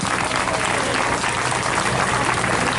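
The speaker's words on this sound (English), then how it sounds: "Let's give all our sponsors a nice big round of applause." An audience applauds sponsors at a community Danish Days festival event, with a dense, steady wash of clapping that fills the whole stretch at an even, fairly loud level.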